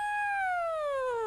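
A man imitates a siren with his voice, a single clear wailing tone that slides steadily downward in pitch over about a second, close and fairly loud with no other talk.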